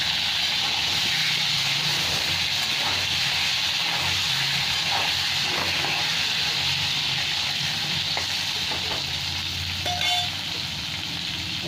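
Pointed gourd (potol) with a little turmeric frying in a pan for a Bengali vegetarian curry, with a continuous loud sizzle, occasional soft stirring clinks and a brief scrape near the end, close and without talking.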